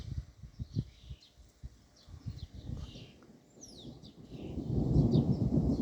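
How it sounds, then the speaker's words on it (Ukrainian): Low rumbling thunder builds toward the end, swelling into a broad roar, with scattered bird chirps and calls over the top. "хмара суне і гримить"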